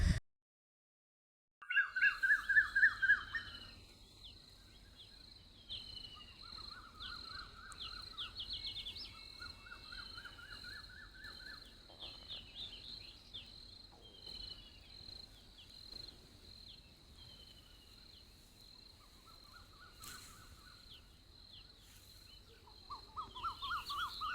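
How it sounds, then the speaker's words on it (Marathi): Early-morning birdsong at 5 a.m. mixes with a steady, high insect trill of crickets, the birds giving faint repeated chirping phrases over a quiet outdoor background for the whole stretch. "पक्ष्यांचा आवाज किती छान ऐकायला येत होता"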